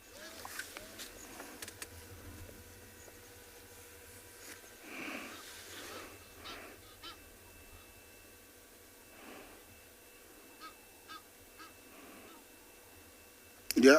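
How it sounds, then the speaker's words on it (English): Faint Egyptian goose honks call out intermittently in the distance over a quiet outdoor background in South Africa, with scattered soft bird sounds. "You can hear the Egyptian geese calling."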